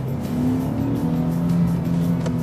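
A Nissan 370Z Fairlady in sports mode with manual shifting pulls hard in fourth gear, its engine giving a steady, loud, close drone with a strong low hum and no speech over it.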